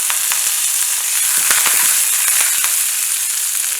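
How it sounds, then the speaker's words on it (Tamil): Mustard seeds and urad dal sizzle and pop in hot oil, a dense steady frying hiss broken by sharp scattered crackles throughout, close and loud with no talk. "கடுகு வெடிச்சுட்டு பருப்பும் நல்லா கோல்டன் ப்ரௌன் ஆகிடுத்து"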